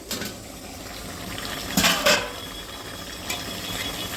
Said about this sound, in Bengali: এবার ঢাকাটা তুলে দেখে নেবো